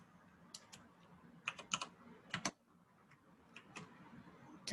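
Keys tapped on a computer keyboard to enter a number in a video editing program, followed by a press of Enter: scattered quick clicks in small bursts, close and quiet, with no talking.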